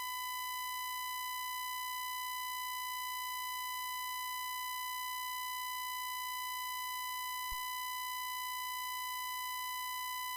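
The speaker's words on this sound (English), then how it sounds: "the difference between the 20 kHz and 19 kHz is 1 kHz, which is exactly what we're seeing here." A steady 1 kHz difference tone produced by mixing 20 kHz and 19 kHz sine waves holds unbroken for the full length, alone with a stack of faint steady harmonics and one tiny click midway.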